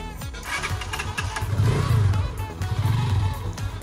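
A motorcycle engine turns over and catches, rising to a rough, close idle with throaty rumbling and a few revs as a rider learns to ride in Honduras.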